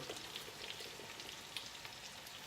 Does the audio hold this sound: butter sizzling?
yes